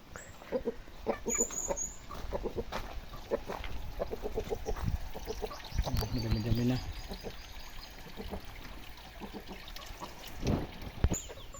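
Chickens cluck and chatter nearby amid a soft trickle of water near a fishpond, with scattered short calls and one louder squawk near the end.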